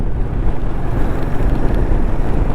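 Strong monsoon wind roars and buffets loudly and continuously near a river during a motorcycle ride, a deep rumbling gust noise close up with no break.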